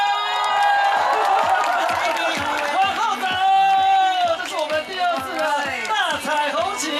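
A large outdoor crowd at the 2015 Taichung pride parade cheers and shouts as the rainbow flag is raised, loud overlapping voices whooping in waves with light clapping mixed in.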